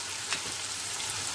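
Steady soft sizzling and crackling of onions frying in a hot pan, continuous and close, with no voices.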